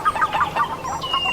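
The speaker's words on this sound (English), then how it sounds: "there's like a bird that comes in." Clucking fowl call in a quick, busy series of short notes, fairly close, with a thin high tone entering near the end.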